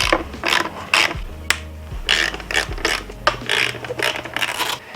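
A ratchet clicks in quick bursts while 5mm Allen fasteners are backed out from under the rear fender of a Honda CRF300L motorcycle, with close, crisp pawl clatter and brief scraping between strokes.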